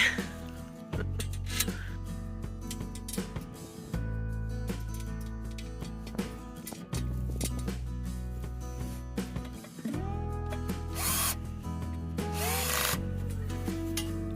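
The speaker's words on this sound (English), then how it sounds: "if you have a drill, like Patrick's doing here, to use your drill" A power drill whirs in several steady bursts while assembling a Quictent greenhouse, each a few seconds long with short pauses between, close by and loud, with faint clicks and rubbing in between.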